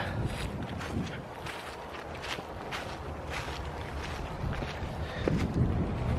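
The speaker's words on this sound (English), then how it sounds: "It's getting incredibly windy out." Gusty wind buffets the microphone outdoors beside a motor speedway, with rough rumbling bursts and crunching footsteps underneath.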